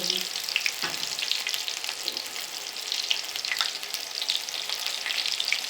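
Spinach leaf pakoras fry in hot oil with a steady, close, crackling sizzle that runs the whole time, with small bubbling pops and no talking.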